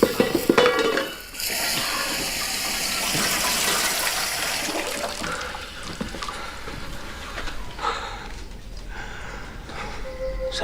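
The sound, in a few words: saucepan clattering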